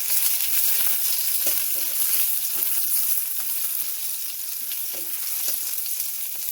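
Onions frying in a pan with a soya chunk and curd dish under way, a constant bright sizzle close by, broken by occasional scrapes and taps of a spoon stirring them.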